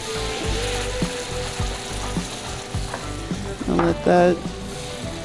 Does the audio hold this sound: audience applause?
no